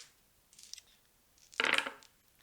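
Dice rolling and clattering in a handmade wooden dice tray, a faint tap followed by a louder burst of rattling knocks that quickly dies away, close and quiet.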